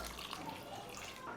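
Water poured into a pan of green peas masala for kuruma, a soft steady splashing and trickling heard close and fairly quiet, with no talk over it.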